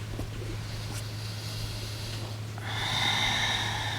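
A person breathes during a slow yoga flow by a lakeside, first a long, steady airy breath and then a deeper, louder breathy exhale near the end, over a constant low hum.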